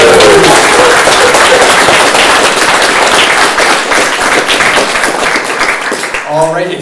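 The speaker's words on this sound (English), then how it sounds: "one more big round of applause" An audience gives a round of applause at a speaker series event, a dense, steady wash of clapping that holds for several seconds and then tapers off as a voice starts speaking.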